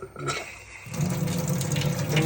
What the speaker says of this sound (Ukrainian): Тут воно тече ось так. Як водоспад і зужається до носіка.